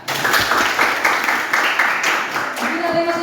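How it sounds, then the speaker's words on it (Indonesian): Students applauding in a classroom, a short burst of moderate clapping that blends with a voice and fades after a few seconds. "Oke, bagus, tepuk tangan"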